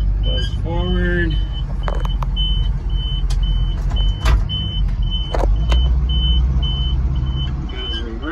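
A 1984 GMC bobtail dump truck idles and creeps forward with a low rumbling engine, while a steady beeping alarm repeats throughout and someone talks over it.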